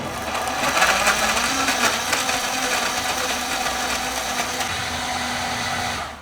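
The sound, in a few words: blender blending aloe vera smoothie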